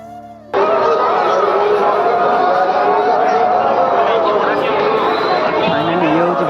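A dense crowd murmurs and chatters continuously, a loud steady babble of many voices with occasional brighter calls rising near the end.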